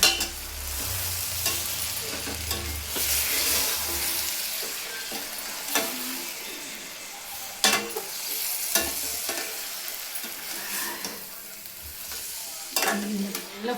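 Country chicken masala fries in a village-style pan with a continuous close sizzle. Scraping stirs and occasional sharp knocks punctuate it, and a low rumble in the first few seconds fades out. No speech.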